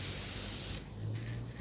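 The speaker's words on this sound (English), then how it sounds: "So I'm going to try this clear lacquer, clear aerosol Minwax." A steady hiss of a Minwax aerosol spray can releasing clear lacquer onto a laminate repair, close up, then a brief pause and a second short burst of spraying.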